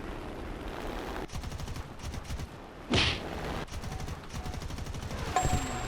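Aircraft guns firing in War Thunder, likely from an A6M5 or AD-4, come as repeated rapid bursts of loud clattering shots with short pauses between volleys, plus one heavy thump midway.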